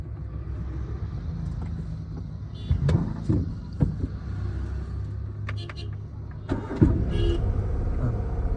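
Manual car engine being started in second gear during a driving lesson, a low rumbling idle with brief cranking and mechanical clunks, faint and close.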